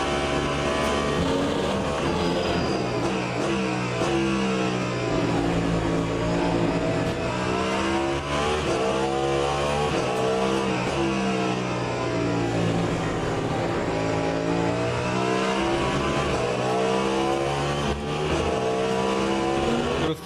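In the sim racing game Le Mans Ultimate, a race car engine screams through a hot lap, its pitch climbing and falling steadily through gear changes and corners, loud and continuous with no voices.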